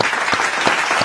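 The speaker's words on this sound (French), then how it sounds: "Applaudissez pour le Comore." A short, steady burst of close applause from an audience, with a few sharper individual claps standing out.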